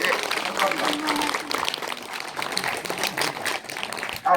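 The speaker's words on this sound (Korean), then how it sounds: "우리 모두 함께 나가시겠다는 의미로 크게 박수 한번 쳐주시기 바랍니다." An audience at Deokyang Seowon, a Confucian academy, breaks into a loud round of applause, a sustained noisy patter of many hands clapping that swells and dips briefly before a final burst.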